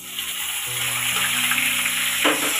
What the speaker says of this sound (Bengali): এখন দিয়ে দেব তেলের উপর